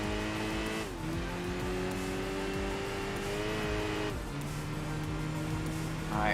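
Race car from Enthusia Professional Racing pushed through a corner, a loud sustained engine drone shifting pitch as the revs drop and rise, with tire squeal layered over it and no talking.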